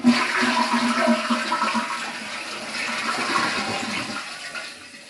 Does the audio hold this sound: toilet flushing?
yes